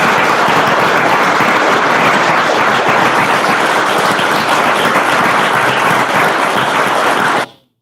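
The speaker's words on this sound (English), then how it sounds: "That applause goes on for a while." Sustained, loud applause from a large audience in a played recording of a speech, a dense roar of clapping that runs steadily before cutting off abruptly.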